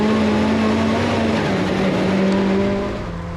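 A 600 BHP Mazda MX5 race car at full throttle, engine droning loud and close with a strained, steady pitch, sliding sideways during a time attack run before the note drops away near the end.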